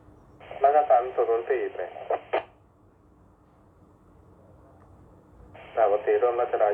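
Two short bursts of a voice over a Motorola T98 two-way radio, each switching on and off abruptly, separated by a few seconds of low hiss.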